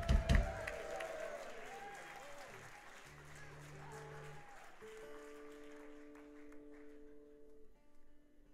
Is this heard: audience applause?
yes